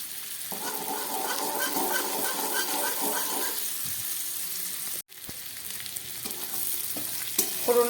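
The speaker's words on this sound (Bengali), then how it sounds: "ফোড়নটা ভাজা হয়ে গেছে।" Panch phoron seeds and green chillies crackle in hot oil for a Malabar spinach dish, a loud close sizzle with stirring that briefly cuts out, then resumes more softly with faint clucking of a chicken nearby.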